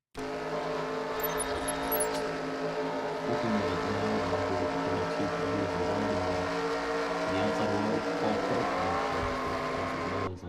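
Race cars roar around the track at Auto Club in the NR2003 racing video game, a continuous loud engine drone with shifting pitch as several cars run close together.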